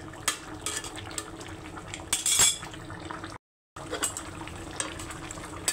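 Fish curry with coriander leaves simmering in a pan, soft bubbling with intermittent clinks of utensils against the pan and a brief silent gap midway.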